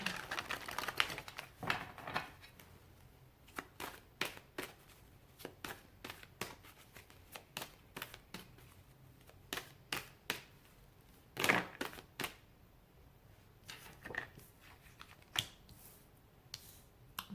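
Crisp rapid riffling and snapping of tarot cards in repeated bursts, quiet and close, with brief pauses between shuffles.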